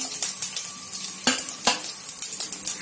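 Garlic dropped into hot oil with cumin and mustard seeds, a bright, close sizzle with crackling spatters and a couple of sharp stirring scrapes against the pan, no voices.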